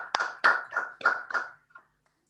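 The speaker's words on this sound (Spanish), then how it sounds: "Cerramos con un aplauso para Lila," A few scattered hand claps at the close of an online lecture, five or six separate soft claps over about two seconds that quickly trail off to silence.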